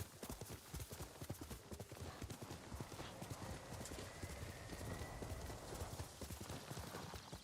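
Horse hooves gallop in the video game Ghost of Tsushima, a steady fast clip-clop beat heard close under ambient game sound, with a brief whinny and faint talking.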